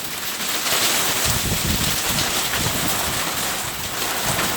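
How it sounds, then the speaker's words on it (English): Strong, roaring hurricane-force wind during a thunderstorm buffets the microphone out on a deck, loud and steady with turbulent gusting throughout. "I think they do call this hurricane force wind."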